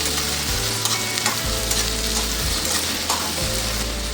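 Cauliflower and potato pieces with tomato sauté in a pan: a loud, close, continuous sizzle with a spatula scraping through in regular strokes about once a second.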